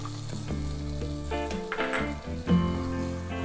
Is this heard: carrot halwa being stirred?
yes